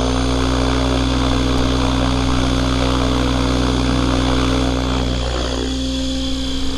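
A REX700 F3C radio-controlled helicopter's rotor runs at steady, loud speed outdoors, a continuous droning whir with tonal hum that holds throughout, easing slightly near the end.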